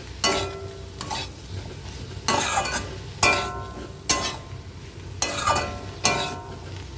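Ginger paste with turmeric and coriander powder being stirred in a pan for a Bengali fish curry, heard as scraping strokes in irregular bursts over a low steady sizzle, close and clear, with no talking.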